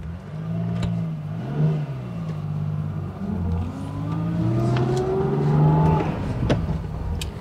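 A classic Mercedes-Benz 280SL engine revs under throttle, a near, rising and falling engine note with repeated blips and swells building over several seconds, with no talking.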